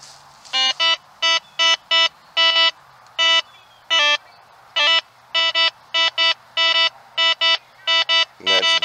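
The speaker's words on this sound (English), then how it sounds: "Now I'm gonna grab the MX Sport there. Here, just go ahead and grab it. Turn on your MX Sport." A Garrett MX Sport metal detector switched on and beeping: a rapid run of short, bright electronic tones in uneven bursts, loud and close, with no talking.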